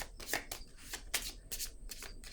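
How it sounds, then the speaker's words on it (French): Tarot cards handled on a table, a few quiet close papery swishes and flicks spaced across the moment, cards sliding and being set down. "Je vais déposer une carte sur la lune de miel."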